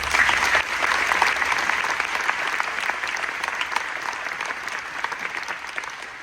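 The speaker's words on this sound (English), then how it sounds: "if everybody could just give us one more round of applause" An audience gives a round of applause at the Wicksburg High School gym dedication. Strong, dense clapping fills an indoor space, loudest at first and then gradually thinning into scattered claps.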